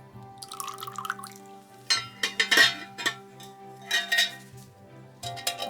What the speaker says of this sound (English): And then I'm gonna go ahead and pour this lye solution into here.